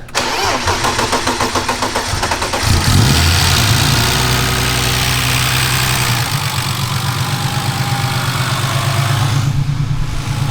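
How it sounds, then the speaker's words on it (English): Turbocharged BMW E36 engine cranks and catches, then settles into a rough idle with loud, rapid valve-lifter ticking over the running engine, close and continuous. "Lifters are still loud as all hell"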